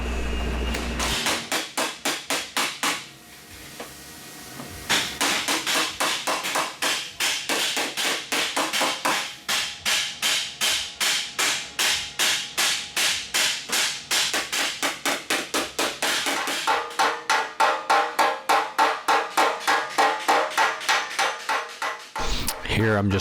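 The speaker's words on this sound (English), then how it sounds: "Here I'm just trying to hammer out the tail sections, make them uniform for each side to fit together" Power hammer pounding out metal tail sections of aircraft wheel pants, with rapid, evenly spaced sharp strikes repeated dozens of times after a short pause, loud and close.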